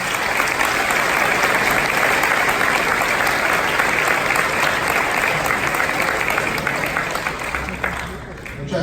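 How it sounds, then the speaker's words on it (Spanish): Audience applause at an evening talk hosted by the Asociación Ecuador Libre as the association's president is introduced, loud sustained clapping from a large hall that fills the whole stretch and dips slightly near the end. "Un aplauso."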